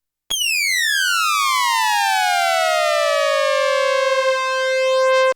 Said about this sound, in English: I've got the frequency of A being modulated by the filter envelope on both of them.